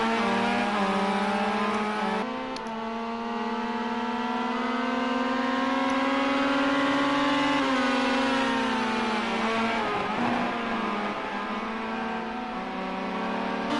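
Race car engines on the final lap at Cadwell, a continuous loud whine rising and falling in pitch as the cars accelerate and shift, with a brief dip near the end and no voices.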